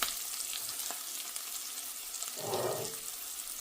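Organic chilli powder sautéing in a pan for a spinach and egg dish gives a faint, low sizzle, with a brief louder stirring rustle near the end.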